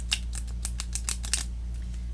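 Glossy oracle card deck being shuffled by hand, a run of crisp, close riffling snaps in quick irregular bursts over a low steady background hum, then tapering off.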